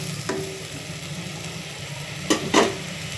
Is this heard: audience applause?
no